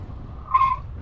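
A small motorcycle braking hard, its tire letting out a short, sharp skid squeal about halfway through over a low engine rumble.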